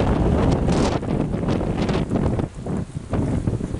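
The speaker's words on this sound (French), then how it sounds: "Sacrée tempête." Storm wind buffets the microphone in heavy, uneven gusts and roars, loud and close, easing briefly before surging again.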